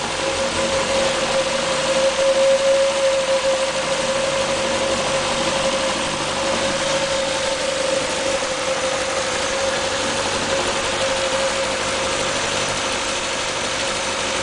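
An MG Midget 1500cc engine idles on a test stand with a steady, smooth, even hum and a faint mechanical tick. It runs loud and close for the whole stretch, with no talk over it.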